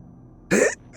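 A man gives a single short, raspy cough, a close burst of about a quarter second after a quiet moment, with a faint trailing breath as it fades.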